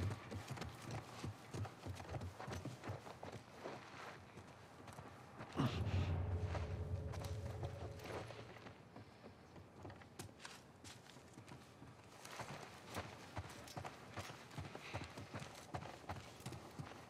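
Horse hooves clip-clop in a video game, a soft irregular run of hoof falls and footsteps against faint creaks and mechanical sounds, with a sudden louder thud partway through.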